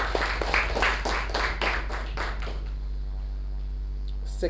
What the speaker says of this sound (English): can we have a round of applause for both the speaker and the evaluator?